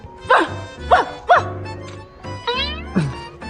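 A voice imitates a dog barking, giving several short, loud, yapping woofs in a row with brief pauses between, close and clear with no other talk.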